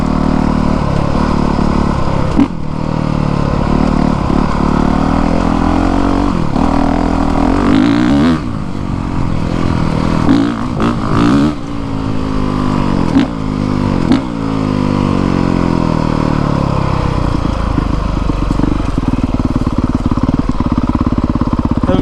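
A 2020 Honda CRF450R dirt bike rides along trails, its engine loud and close, continuously revving and shifting pitch as the throttle opens and eases off, with no talking.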